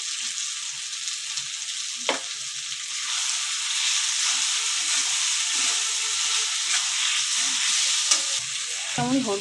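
Chopped tomatoes frying in a pan for a chicken curry hiss with a loud, steady, close sizzle, marked by a couple of brief utensil clicks and a faint scrape near the end.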